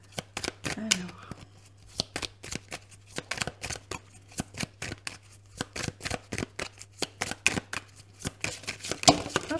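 Tarot cards are shuffled by hand in a quick series of crisp, close slaps and riffles with a steady low hum underneath, and a voice speaks briefly near the start.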